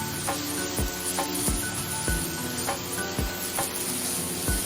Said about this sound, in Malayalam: ഒരു വലിയ പീസ് ഇഞ്ചി, 3 പച്ചമുളക്, കറിവേപ്പില, ഇതെല്ലാം കൂടെ നന്നായിട്ട് വഴറ്റിയെടുക്കണം